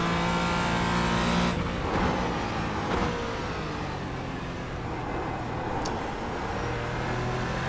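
A Porsche Cayman GT4 in the iRacing sim at Sebring pulls at full power, the engine note a loud continuous drone that shifts pitch as it climbs, with a brief high squeal near the end.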